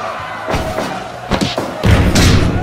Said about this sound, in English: Nice power bomb.